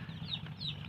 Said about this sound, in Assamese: চাইছে কিমান ধুনীয়া হাঁহৰ পোৱালি, এইবিলাক চব লোকেল